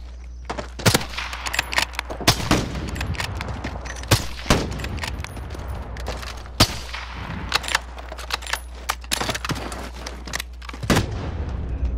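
Bursts of automatic gunfire and single shots in a Modern Warfare video game match, fired through a wall, with sharp cracks scattered irregularly across the stretch and loud in the mix.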